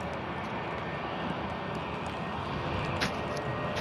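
A British Airways shuttle plane takes off, a steady, broad jet engine roar filling the air without pause, moderately distant and even in level throughout.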